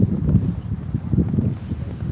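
Wind buffets a microphone outdoors on a snowy street, with a steady low rumble and gusty swells that rise and fall in no clear pattern.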